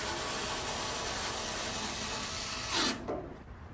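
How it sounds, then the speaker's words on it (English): A power screwdriver drives screws into the mid-range bracket on the left side of a Kenmore Elite dryer, giving a continuous whirring ratchet buzz that ends in a short louder burst before cutting off. "Now mounting the 2 screws for the mid-range bracket, left side"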